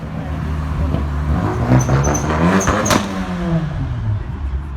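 A car engine on a coastal road along the Côte d'Opale in northern France climbs steadily in pitch as it accelerates, the rising harmonics loud and close against steady background rumble, with no talking.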